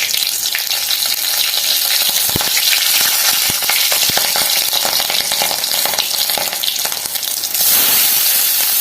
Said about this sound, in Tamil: இந்த ஸ்பைசஸ் வந்து லேசாக இப்போ வதங்கிடுச்சு அடுத்து இந்த பச்சை மிளகாய் போட்டு